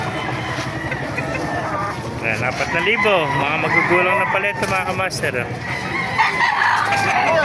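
Chickens and roosters at a poultry market in Baliuag, with repeated crowing and clucking close by under nearly continuous talk from people haggling.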